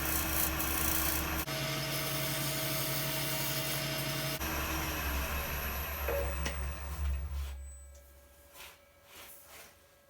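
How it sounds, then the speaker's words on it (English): A Viking-style wooden bowl is shear scraped on a wood lathe, giving a loud, continuous rasping and rubbing over the whirring drone of the spinning lathe, which slows and fades toward the end. "I'm just doing a little bit of careful shear scraping"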